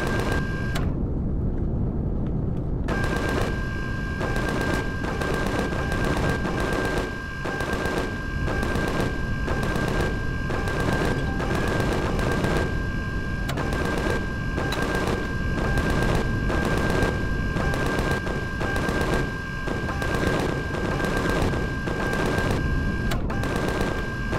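Front turrets of a tank in the space survival game Empyrion Galactic Survival fire in rapid, rhythmic bursts that keep pounding for over twenty seconds, with a brief lull near the start and a steady mechanical drone underneath.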